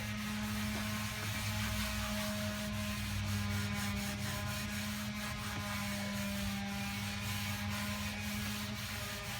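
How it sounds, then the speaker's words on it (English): A rag rubbing wet floor finish onto a wood floor gives a steady, continuous scrubbing swish, close and moderately loud over a low hum, with no talk. "So I put it on wet like that, just kind of rubbed it on"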